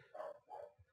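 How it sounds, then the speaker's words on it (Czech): A dog gives two quick barks and a faint third yip, distant and quiet in the background with nothing else heard. "Možná slyšíte v pozadí štěkat psa."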